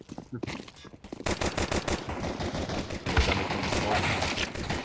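Bursts of automatic rifle fire and rapid gunshots in a competitive Counter-Strike match, loud and dense, with a short gap early on and then sustained volleys over several seconds.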